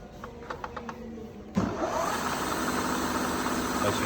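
A Southwest Industries TRAK 3-axis CNC bed mill with a Kurt power drawbar spins up its spindle at the high end of the low range, starting with a sudden jump and then holding a steady, loud mechanical hum.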